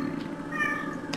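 A cat meows in short bursts in a cluttered room during a Pinturillo drawing game session, fairly faint against a steady background hum.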